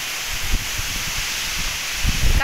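Strong typhoon wind roars steadily through trees in Albay, Bicol, a dense broadband rush with low gusty rumbles and buffeting against the microphone, swelling louder near the end.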